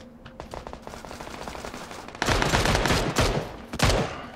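Enemy gunfire in PUBG on Xbox One X rattles in fast automatic bursts, lighter and farther at first, then louder and denser rapid shots close by, with no talking.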